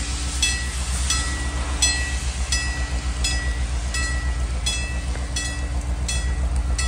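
The Niles Christmas Train in Niles, California rumbles steadily with a low continuous drone, while bright, regularly spaced clicks repeat every half second or so, like wheels passing rail joints.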